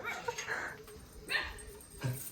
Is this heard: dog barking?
yes